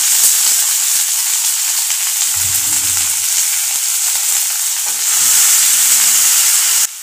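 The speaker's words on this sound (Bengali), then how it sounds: "বাঁধাকপি, শিম, ফুলকপি আর আলুটা এর মধ্যে ভেজে নেব প্রথমে।" Cabbage, beans, cauliflower and potato fry in a wok on a home stove, giving a loud, steady, close sizzle with a faint hum under it and occasional stirring knocks.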